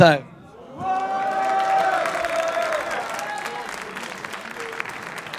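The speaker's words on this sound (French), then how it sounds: "si les gens applaudissent et réagissent" An audience at a rap battle in Lyon bursts into applause and cheering after a brief voice at the start, the clapping swelling then slowly fading while tonal crowd noise rings over it.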